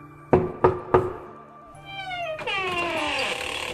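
Three sharp, evenly spaced knocks on the door of a small village hut, loud and close, followed by a cat's drawn-out meowing in a fairy-tale narration setting.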